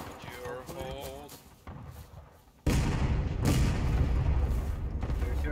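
Cannon-style artillery in the Civil War video game War of Rights fires with a sudden loud boom that rolls into a long rumbling roar, following a stretch of players talking.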